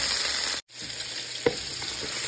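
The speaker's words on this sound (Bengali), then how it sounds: "কেটে রেখেছিলাম আলুটাকে একটু নুন হলুদ মাখিয়ে আলুটাকে একটু ভেজে নেব।" Potato pieces coated with salt and turmeric frying in hot oil, a close, steady bright sizzle that cuts out for a moment, then resumes with a light clink of a utensil.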